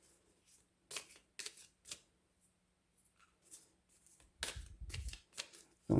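Tarot cards being shuffled by hand in a quiet room, a run of crisp riffling bursts separated by short pauses, close and fairly soft, with no talking.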